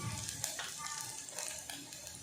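Dal and spinach sizzling as they are sautéed in a pan, a steady crackling fry with faint scraping stir sounds, close and moderately quiet, with no talk over it.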